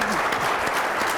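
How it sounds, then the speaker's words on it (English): Audience at a business marketing event applauding, a dense, continuous wash of clapping from a crowd filling the room, even in level from start to finish. "let's give her another round of applause"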